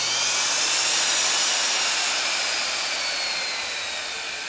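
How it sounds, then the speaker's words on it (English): A Sidewinder drill run through a variac whirs in a steady high whine, close and loud, its pitch drifting as the speed changes and its level slowly dropping toward the end. "as you adjust the variac, you get a different speed out on the drill."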